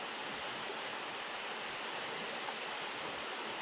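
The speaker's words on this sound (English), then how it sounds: "It's a huge waterfall." A huge waterfall in Georgia roars as a constant, even wash of rushing water, loud and unbroken throughout.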